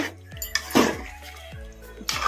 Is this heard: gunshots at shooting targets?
no